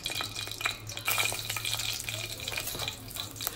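Crushed ginger frying in hot oil with mustard seeds makes a close, continuous sizzle with scattered pops and crackles.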